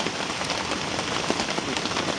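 Steady rain falls on a riverside campsite during a river flood, a dense, even hiss of drops pattering on surfaces with no pauses and no other sounds.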